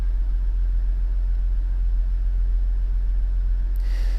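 A 1991 Toyota Soarer 2.5GT warmed up and idling steadily, a low, even engine rumble held close and constant throughout, with a brief brighter hiss entering near the end.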